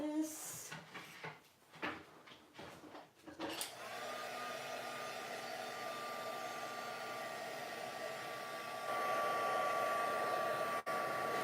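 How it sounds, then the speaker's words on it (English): After some brief handling and clunks, an embossing heat tool switches on to heat-set embossing powder on a handmade card. Its steady whirring hum stays close and grows slightly louder near the end. "Let's heat set this."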